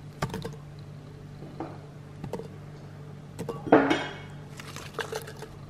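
Frozen fruit pieces drop into a blender jar with a handful of sparse, hard clinks and knocks, close and fairly quiet, against a soft background hum.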